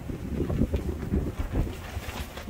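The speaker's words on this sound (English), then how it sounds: "Look, it's blowing, that wind is blowing it completely down." Heavy wind buffeting a Hasika awning pitched outdoors and secured to a vehicle roof, a loud, gusty rumbling roar close to the microphone with no talk.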